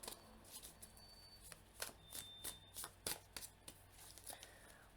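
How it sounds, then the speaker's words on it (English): Tarot oracle cards are shuffled by hand, a series of soft, quick riffling bursts in an irregular rhythm, faint and close with no talk. "One more shuffle."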